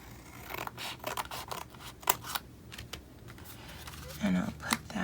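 Scissors snip through a small paper greeting card in a series of short, crisp cuts at close range, with light handling rustles between them and a soft voice in the background.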